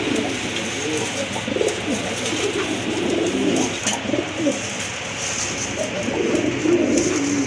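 Pigeons kept for sale coo in soft, repeated, throaty bursts close by, overlapping one another against a low background murmur.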